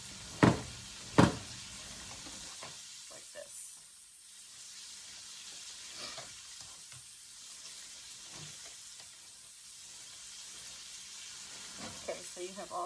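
Chorizo fries in a pan for chilaquiles, giving a low, steady sizzle with a few sharp knocks near the start and occasional soft stirring scrapes, heard close but faint.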